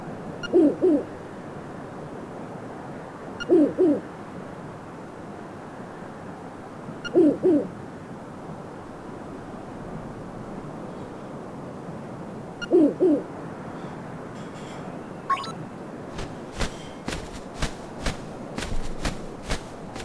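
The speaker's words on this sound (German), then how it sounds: "Ach, jetzt kommst du endlich mal an. Kleine Eule." A small owl hoots in Zelda: Link's Awakening, four short double-note calls spaced evenly a few seconds apart, followed by a run of quick clicking footsteps and a brief rising chirp.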